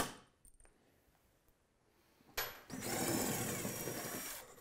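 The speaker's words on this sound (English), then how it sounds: "That noise there is a very good sign. That means the bolt's coming out" During a Kmod Gen 3 install, a bolt is driven out by a power tool: a few faint clicks first, then a sharp hit and a loud, steady mechanical whir that lasts about two seconds.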